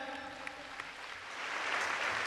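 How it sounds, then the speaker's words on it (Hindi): A crowd at a Bhagwat Katha religious gathering claps steadily, the applause building and growing louder toward the end. "एक बार जोर से तालियां हो जाएं।"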